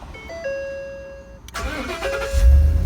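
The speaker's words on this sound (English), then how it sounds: "And your vehicle is remote started." A Ford F-150 starts by remote starter: a chime of electronic tones sounds first, then the engine cranks and catches, settling into a close idle that swells in loudness.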